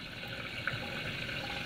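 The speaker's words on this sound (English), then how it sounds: "Guys, there's constant flow of water right there." A steady, constant stream of water runs from an Everflow livestock watering system, a close, even splashing flow without pause.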